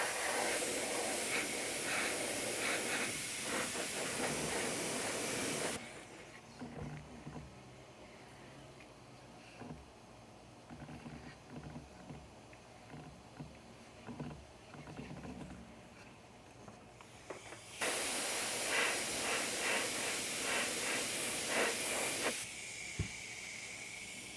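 An airbrush sprays paint onto a 1/4-scale Aquaman figure, hissing in long steady bursts, a bright continuous spray that stops for a stretch with quieter rustling between, then resumes close up.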